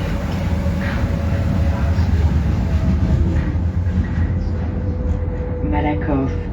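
Paris metro train riding toward Malakoff–Plateau de Vanves: a steady loud rumble of wheels and motor inside the carriage, with a faint tonal whine and chime-like tones near the end, and some speech.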